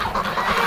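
Ducks calling close by in a barn setting, a steady run of busy clucking, quacking calls filling the short moment with no talk.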